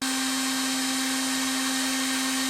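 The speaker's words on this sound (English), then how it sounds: "drill a hole in the end cap, which I initially attempted in a way" A drill bores a hole in the end cap of an edge finder, a steady high-pitched whine with a strong constant tone, continuous and close for the whole stretch, with no talking.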